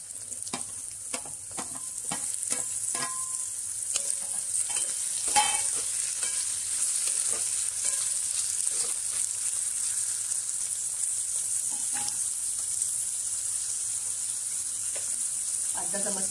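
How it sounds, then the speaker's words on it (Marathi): Chopped tomatoes go into a pan of cooked onion for a jackfruit vegetable dish, setting off a steady loud sizzle with repeated scraping stirs through the first half, then continuous frying hiss. "आता त्यात आपण टोमॅटो घालून घेऊया।"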